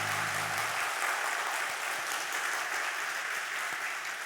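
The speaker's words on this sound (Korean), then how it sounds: "우리 함께 힘차게 박수 한번 하도록 하겠습니다" A church congregation at a Sunday service claps together vigorously, a dense, steady burst of applause that fills the room from start to finish with no speech over it.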